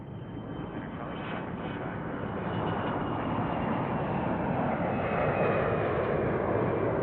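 An airplane departing from Tucson airport on a gear-down departure, a steady, broad engine roar that builds slightly and holds loud through the clip, with no talk.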